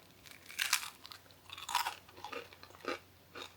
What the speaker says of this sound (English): But if you hear, these cookies are pretty crunchy.